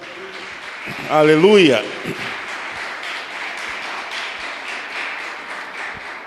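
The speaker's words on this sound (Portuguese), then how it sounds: "Você pode aplaudir o Senhor?" Church congregation applauding during a sermon, a steady broadband clatter of clapping running throughout, with a loud shout of praise near the start.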